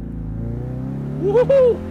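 A 2020 Ford Mustang engine revs up loudly near the end in two rising bursts with a brief crackle, over steady engine drone, while a person whoops in excitement.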